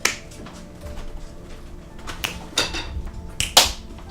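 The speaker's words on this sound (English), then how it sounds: "Yeah, everyone's clapping." A few scattered, sharp hand claps ring out in a room, sparse and fairly soft, with no talking over them.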